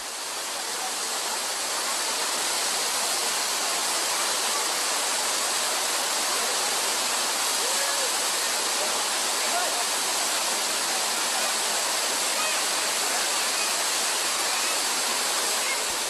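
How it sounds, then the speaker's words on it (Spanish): Waterfall in Jordan pouring into a natural pool, a loud, constant broadband roar of falling water that holds steady throughout with no pauses. "En la segunda cascada, la formación de una piscina natural favorece el baño"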